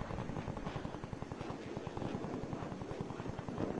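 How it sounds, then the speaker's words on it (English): Spy plane overhead in Call of Duty Cold War, a steady rotor-like thrumming with fast regular pulses and a broad airy rush, constant and fairly close throughout. "Spy plane established overhead."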